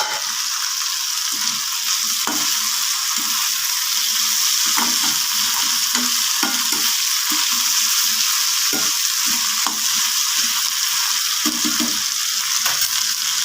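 Ivy gourd poriyal stir-frying in a pan, a steady loud sizzle broken by irregular scraping and stirring knocks from a spatula, with no voices.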